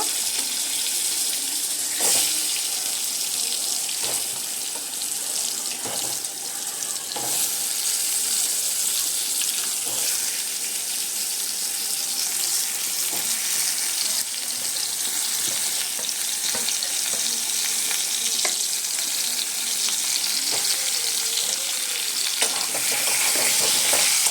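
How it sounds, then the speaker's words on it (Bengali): Potato pieces fry in hot oil until reddish, giving a steady, close, hissing sizzle that runs unbroken, with occasional light clicks of a spatula stirring the pan. "প্রথমে আলুগুলো দিয়ে ভেজে নেব, লাল লাল করে ভেজে নিতে হবে।"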